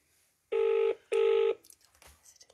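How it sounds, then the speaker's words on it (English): Two loud electronic phone ring tones sound in quick succession, each a steady buzzing burst under a second long, followed by faint background noise. "Whose phone's ringing?"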